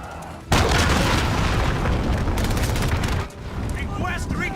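A cruise missile strike explodes in Call of Duty: Modern Warfare with a sudden loud boom that swells into a long, dense rumbling roar, easing slightly near the end.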